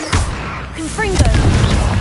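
In Hogwarts Legacy, a Confringo spell goes off in a loud, dense blast with a booming crackle, mixed with game sound effects and a brief tonal shimmer.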